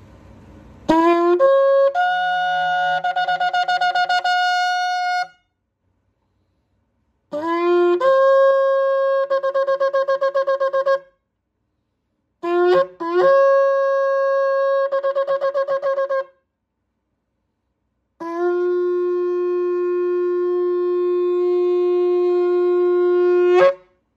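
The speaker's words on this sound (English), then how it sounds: "Resonating sound, yeah, vibrant. You can hear the sound, it's very vibrant, and it has four tones." A four-tone Yemenite kudu shofar, semi-polished, is blown in four long, resonant blasts, each rising quickly to a steady buzzing tone, separated by short silences, close and loud with no talk.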